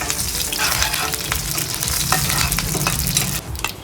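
Curry leaves and asafoetida, added after mustard seeds, crackle and sizzle loudly and steadily in hot oil, with stirring noises throughout and no talking.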